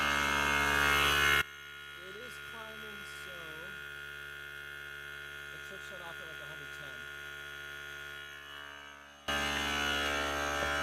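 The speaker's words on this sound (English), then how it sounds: "we are testing the compressor" A small air compressor feeding a train horn fitted to a Toyota Prius runs with a steady, loud electric buzzing drone. It drops to a softer hum while people talk nearby, then surges back.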